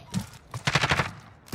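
Gunfire bursts from a Modern Warfare video game, rapid close shots clustered in quick volleys over a brief stretch, with faint voice sounds around them.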